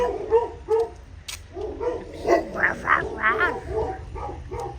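Several Labrador dogs bark and yip in quick bursts, fairly close, with a steady low background rumble throughout.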